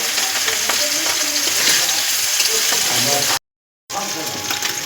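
Mixed vegetables being sautéed with salt and ginger paste in a hot pan, a steady close sizzle and crackle with occasional stirring, cut briefly by a moment of silence before the frying resumes.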